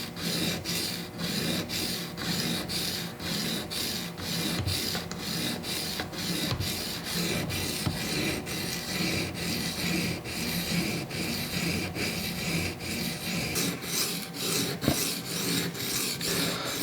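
A Benchmade Griptilian knife blade is stroked across Matrix sharpening stones in a steady rhythmic rasp, repeated scraping passes close up with no talking.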